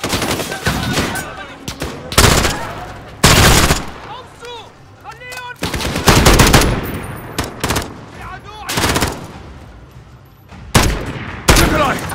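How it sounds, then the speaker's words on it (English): Loud bursts of rapid gunfire in Call of Duty: Modern Warfare (2019) come in several volleys, separated by shorter pauses filled with shouting voices and commotion. "The gunshots, of course."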